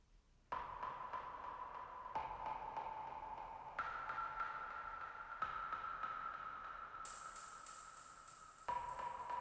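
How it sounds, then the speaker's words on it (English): A synth atmosphere carries a sine-like plucked tone built from a triangle wave with slight pitch shift, holding steady notes that step to new pitches every second or two, quiet and alone. "we have this cool like sine-esque plug. It is actually made with a triangle and a little bit of pitch shift here."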